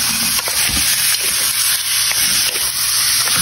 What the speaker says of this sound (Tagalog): igigisa natin sa sarili niyang mantika mga parikoy